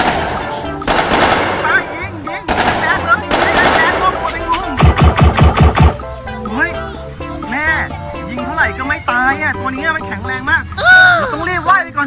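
Bursts of rapid gunfire from a video game, fired at a dinosaur during an action cartoon hunt, come in several loud volleys, followed by excited talk and game effects.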